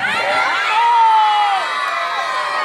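Outdoor fair crowd at Gelnica shouting and cheering loudly, many voices blending into a sustained roar with a few high whoops standing out above it.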